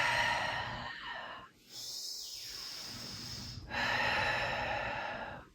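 A deep breath during yoga: a slow, breathy inhale followed by a long, soft exhale, close and quiet, with no talking.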